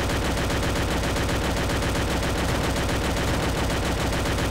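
Continuous automatic gunfire in the Free Fire shooter game, a dense unbroken burst as a magazine is emptied, loud and steady throughout.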